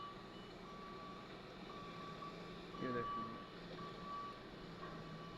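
Reversing beeps from a vehicle being loaded onto a trailer, a steady repeating tone at moderate distance over engine rumble, with someone talking briefly.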